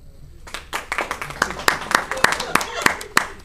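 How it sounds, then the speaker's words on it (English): A stand-up comedy audience claps in scattered, sharp bursts that start loose and settle into a fairly regular rhythm, close and fairly loud. "Clap."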